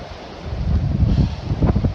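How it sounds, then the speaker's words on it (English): Strong wind gusts buffet the microphone on an open hilltop in the Grayson Highlands, a low roaring rumble that surges and swells in uneven waves. "Pretty intense wind gusts."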